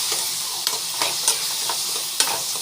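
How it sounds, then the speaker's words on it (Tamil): Tomato with a pinch of asafoetida sautés in a hot pan, giving a continuous bright sizzle with a handful of quick spatula scrapes at an uneven pace, close and fairly loud, with no voices. "நல்லா வந்து வதக்கிட்டுக்கோங்க"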